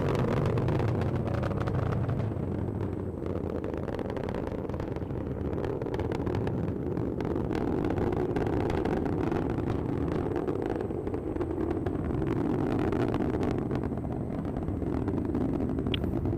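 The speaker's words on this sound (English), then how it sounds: "The BE4 is now throttling down in preparation for SRB burnout." The BE-4 engines of a Vulcan rocket roar during ascent, a continuous deep rumbling roar heard from a distance that holds steady and full throughout, with no voices over it.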